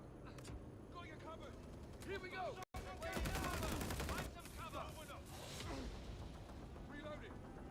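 Sustained automatic gunfire and explosions in Helldivers 2 form a dense rattling wall of shots under continuous chatter, broken by a brief cut before the firing resumes louder.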